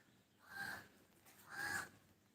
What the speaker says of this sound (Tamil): மேலே வேற காக்கா கத்திட்டு நிற்குது.